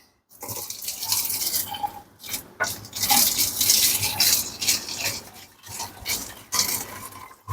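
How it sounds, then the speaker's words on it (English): About 20 ounces of hot water poured close up into a plastic bottle to make simple syrup, a hissing, gurgling splash that runs steadily with a couple of short breaks. "now I'm going to add 20 ounces of hot water to the bottle"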